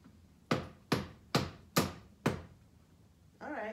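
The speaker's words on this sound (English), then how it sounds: "I've nailed down the rivet on the bar" Five sharp, evenly spaced hammer blows strike a rivet on the metal bar of a vintage sofa, each a close, crisp knock with a quick decay, followed by a brief voice at the end.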